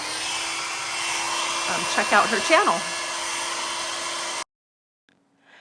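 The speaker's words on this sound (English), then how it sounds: "Here I go using the hairdryer" A hair dryer blows with a steady whir while someone speaks briefly over it; the dryer cuts off abruptly near the end, leaving near silence.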